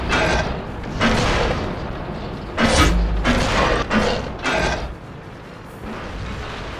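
Deep booming tank gun shots in World of Tanks clan battle, a few heavy thuds with mechanical clatter and rumble between them, loud and close.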